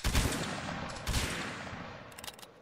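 A massed musket volley in a video game battle, a loud ragged burst of gunfire at the start followed by a second crack about a second later, then a decaying rumble with scattered later pops.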